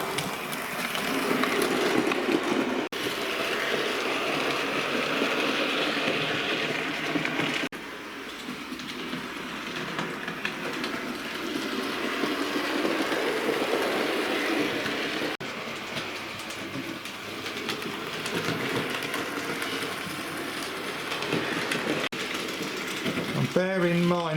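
A Sir Walter Scott A1 Pacific model locomotive runs along a layout track, giving a continuous whirring motor hum with rapid clickety-clack from rail joints, fairly close and steady, with a brief dip midway and a voice speaking over it.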